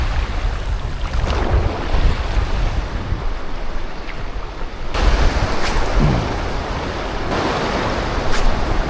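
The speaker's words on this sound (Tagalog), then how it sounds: "Malaki yung alon." Big ocean waves breaking on a shore with scattered litter, a steady loud roar of surf with periodic surges as each wave crashes in, mixed with wind buffeting, no voices.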